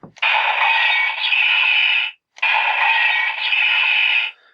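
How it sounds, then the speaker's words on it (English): A Kamen Rider Ghost Cobra Mobile toy plays two loud electronic bursts of about two seconds each, with a slashing, clanky tone and a steady hiss, split by a brief silence. "it has like a slashy, clanky sound and a hiss"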